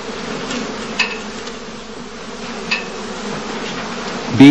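Honey bees at a heathland skep apiary during heather bloom drone in a dense, steady, close hum, with a few brief sharper buzzes and a louder burst right at the end.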